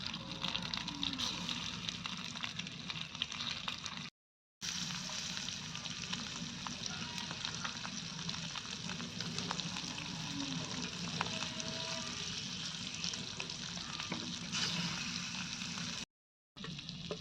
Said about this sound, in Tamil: முட்டை இப்படி குப்பரை திருப்பி வச்சுக்கோணும். எண்ணெயில் பொரி இருக்குது, அதனால் திருப்பி வைக்கிறேன்.